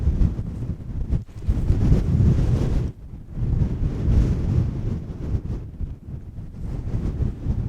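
Wind gusts buffet a microphone on an Irish hillside in rain near windmills, a loud rumbling roar that surges and dips in uneven bursts, with no voices.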